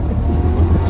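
A Rolls-Royce Dawn accelerates hard through a corner, a deep, loud engine roar building briefly under sustained power.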